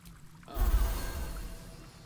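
A restoration faucet in a fantasy role-playing game pours water in a steady, close splashing stream that starts abruptly after a short quiet moment and keeps running evenly.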